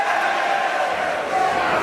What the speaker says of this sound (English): The Manchester crowd came to their feet for that one.